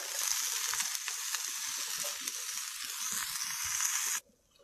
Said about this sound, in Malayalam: കാശ്മീരി ചില്ലിയുടെ പൗഡറും കൂടെ ചേർത്തിട്ട് നന്നായിട്ടൊന്നും കൂടെ വാട്ടിയെടുക്കാം